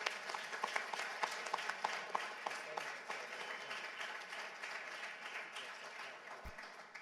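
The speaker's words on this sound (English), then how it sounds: "one more round of applause for our first set of students today" An audience applauds student competitors at a regional pitch competition, a moderate roomful of clapping with a few distinct sharp claps near the start, steady and fairly distant, fading slightly toward the end.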